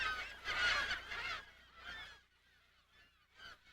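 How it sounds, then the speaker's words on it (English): Gulls crying over a freshwater inlet at Mono Lake in the desert, a few loud piercing calls close by, then fainter, scattered cries trailing off. "the piercing cry of gulls breaks the desert stillness"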